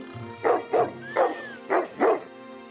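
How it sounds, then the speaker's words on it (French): A dog barks five times in a steady rhythm, loud and close, with a brief whine between barks. "Un chien."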